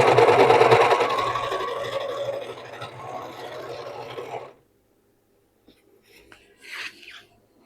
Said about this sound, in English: with this handy dandy little serger right here